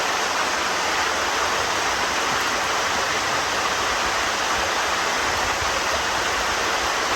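A pond waterfall gives a steady, broad rush of flowing water, close and continuous with no break.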